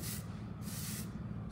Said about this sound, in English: This is a little bit of glint. It's our texture shine spray.